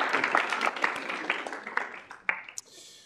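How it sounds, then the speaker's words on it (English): Applause from the room at a student involvement meeting after a resolution passes, brisk claps that thin out and fade to a few scattered final claps within a few seconds. "If we give them a round of applause."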